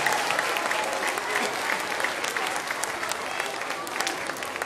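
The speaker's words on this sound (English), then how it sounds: "Give yourselves a round of applause." School students give a lively round of applause during a National Youth Jazz Orchestra visit, dense clapping throughout with crowd noise and some voices underneath.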